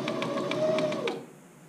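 Sewing machine zigzag stitching backwards along a buttonhole on a camp shirt, a close, steady mechanical whir with quick regular needle ticks that stops abruptly near the end.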